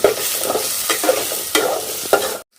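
Shrimp frying in hot oil in a pan, a steady close sizzle broken by several spatula stirs and scrapes, with no voices, cutting off abruptly at the end.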